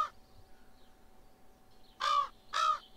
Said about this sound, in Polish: Cholerne wrony.